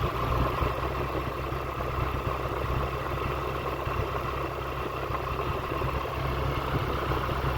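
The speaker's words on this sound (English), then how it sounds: "There we go, there's a misfire." A Ford Ka engine idles with a misfire, a steady close-up low rumble that runs unbroken throughout, with no one speaking.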